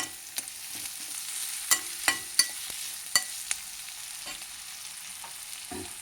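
Onions frying in a pan on a home stove, a soft steady sizzle with occasional sharp clicks and taps as they are stirred, no talking.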